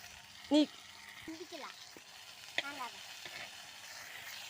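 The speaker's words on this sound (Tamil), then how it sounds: "வாங்க நல்லா மாங்காய் கிண்டிக்கலாம்." Cut raw mango with salt frying in a pan for pickle, a soft, constant sizzle with occasional stirring scrapes, close, plus faint outdoor background sounds including brief birdlike chirps.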